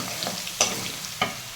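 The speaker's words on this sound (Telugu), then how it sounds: "ఇదిగా ఇప్పుడే అల్లం వెల్లుల్లి పేస్ట్ వేసాను" Ginger garlic paste frying in a hot pan makes a steady close sizzle, broken by two sharp spatula scrapes against the metal about half a second apart, with no talk.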